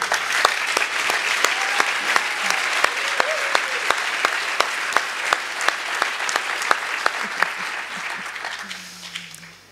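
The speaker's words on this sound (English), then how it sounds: "Give a big round of applause." Conference audience applauding steadily for nearly ten seconds, a dense wash of clapping with sharp individual claps standing out, fading slightly toward the end.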